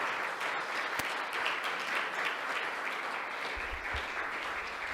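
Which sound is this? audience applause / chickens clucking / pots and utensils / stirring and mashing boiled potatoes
audience applause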